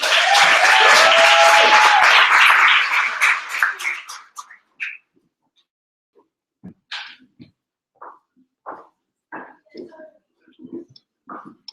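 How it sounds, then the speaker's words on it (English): An audience at a hackathon's final pitch event breaks into loud, dense applause for a few seconds, which fades out quickly before a speaker begins talking. "Give it a huge round of applause."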